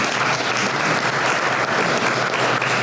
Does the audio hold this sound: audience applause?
yes